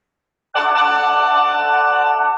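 A single bright chime rings out after a short silence: a tour app's task-unlocked notification, a sustained tonal sound that holds steady and fades slowly.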